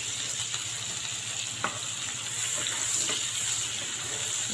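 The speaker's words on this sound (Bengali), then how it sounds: "এখন পেঁয়াজটাকে লাল করে ভেজে নিচ্ছি।" Chopped onion frying in oil left from frying prawns, a steady sizzling hiss close by with faint stirring scrapes and a small clink partway through.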